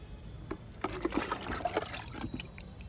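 Kitchen-waste liquid fertilizer poured from a ₹100 tub onto a small mango plant, heard as soft splashing and trickling in uneven bursts, close and fairly quiet with no talk.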